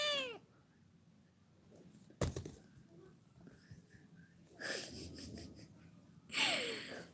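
A house cat meows in a few short, rising calls indoors, one at the start and louder ones near the middle and end, with quiet household background between them.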